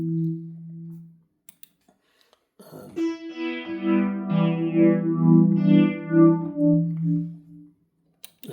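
A hybrid synth fitted with an FV1 effects board plays a sustained chord passage through a flanging effect, swelling and sweeping for several seconds after a brief low tone, loud and close with no voices.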